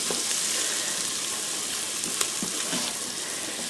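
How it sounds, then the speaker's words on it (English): Butter sizzles steadily in an Instant Pot with minced garlic and diced celery, a dense even frying hiss with a few small pops and spatters, heard up close without talk. "we're just browning the butter up"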